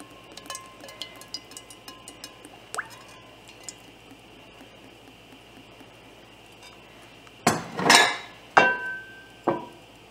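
A frying pan is handled on a stovetop before heating oil to fry brinjal for a Kerala vegetarian lunch: faint ticks and clinks, then a few loud metallic clanks and scrapes near the end, with no talking.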